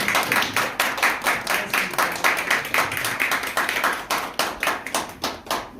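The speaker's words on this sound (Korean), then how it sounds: "박수로." Steady rhythmic clapping from an audience at a Korean political party gathering welcoming a visiting party leader, continuous and fairly close, with dense overlapping hand claps and no talk.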